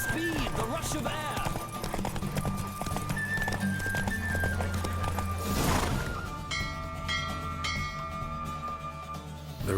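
Horse galloping during a race in The Witcher 3, hooves clip-clopping steadily over game music and a voice, with a whinny among the hoofbeats.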